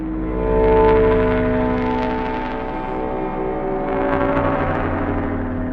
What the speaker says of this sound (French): C'est le bruit des lampes de l'URSS.